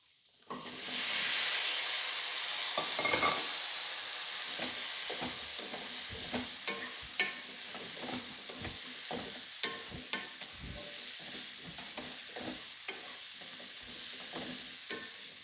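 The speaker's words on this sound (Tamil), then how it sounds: "இப்போ கட் பண்ணி வச்சுருக்க முருங்காயை போட்டுக்கலாம்" Cut drumstick pods fry in oil in a pan, a loud hiss rising at the start and then a steady sizzle broken by repeated sharp scraping and tapping stirs, with no talking.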